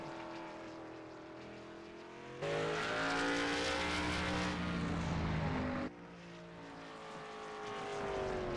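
An Impala SS late model race car on a qualifying lap at Langley, its engine droning loud with shifting pitch, surging much louder for a few seconds as the car roars close by, then easing back, with no voices.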